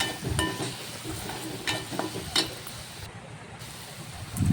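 Soft frying sizzle of salted tomatoes sautéing in a pan with occasional scrapes and clinks of a utensil stirring, steady and close, no talking.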